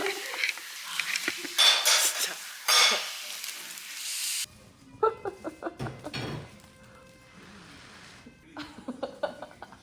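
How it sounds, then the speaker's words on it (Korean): Clattering dishes and running water at a sink, with scattered clinks of cutlery and pots, fairly close, with brief background voices. "설거지 할게"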